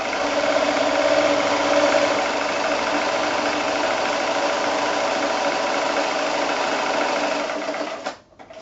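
A sewing machine runs steadily and loudly up close, stitching a seam along the edge of a fabric gift bag, a continuous whirring hum that stops abruptly near the end.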